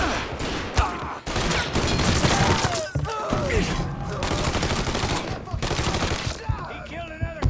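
Rapid automatic gunfire in a Mafia 3 police shootout crackles in long, dense bursts with short gaps, loud and close, while a voice talks over it.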